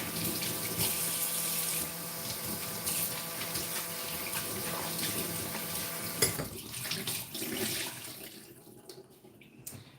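Hands are washed under a running kitchen tap during meat fish preparation, a steady, fairly loud stream of water that runs throughout and tapers off softer near the end.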